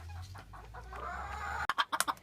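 Millefleur chickens give a string of short, sharp clucks, close by and fairly loud, after a stretch of lower, softer murmuring.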